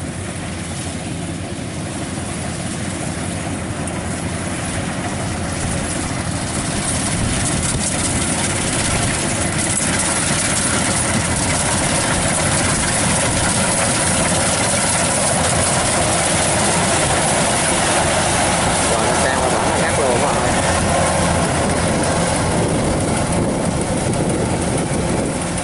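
A rice combine harvester cuts through a paddy field, its engine droning loud and steady throughout with a constant rumbling, rattling mechanical roar and no break.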